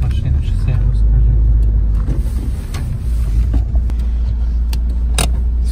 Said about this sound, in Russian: Женя туда ставит машину